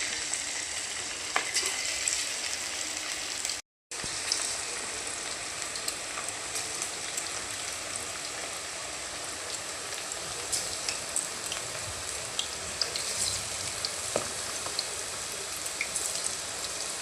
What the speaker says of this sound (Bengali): এখন পাকোড়াগুলো তেলের মধ্যে সুন্দর করে ভেজে নেব।